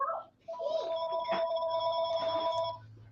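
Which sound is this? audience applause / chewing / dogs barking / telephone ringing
telephone ringing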